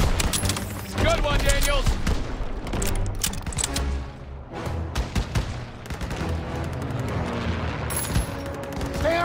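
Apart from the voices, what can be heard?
gunfire in the video game Call of Duty WW2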